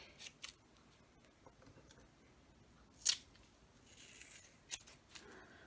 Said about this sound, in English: I just grab a little piece of masking tape and I'm going to cut it off nice and straight.